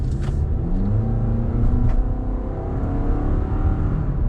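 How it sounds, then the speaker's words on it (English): Steady engine drone of a 2021 Toyota RAV4 TRD Off Road with its 4-cylinder engine accelerating, heard from inside as a continuous low hum with a gently rising pitch. "it's a 4-cylinder. It's not going to sound the best"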